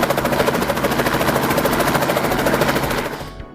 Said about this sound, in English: generating enough lift to get the chopper off the ground and rising